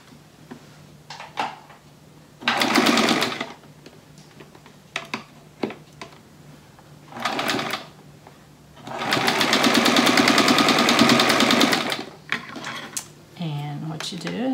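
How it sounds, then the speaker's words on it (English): Sewing machine stitching quilt pieces together for a quilt cross block, running in several bursts of steady rapid stitching, the longest about three seconds, with quieter pauses and light handling noises between runs. "just sew that together"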